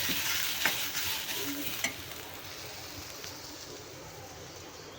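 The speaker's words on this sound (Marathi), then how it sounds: "आता कांदा आहे कांदा पण भाजून घेणार आहे तेलामध्ये" Chopped onion frying in oil for a spicy masala, a soft continuous sizzle heard close with a few stirring scrapes early on, fading slightly toward the end.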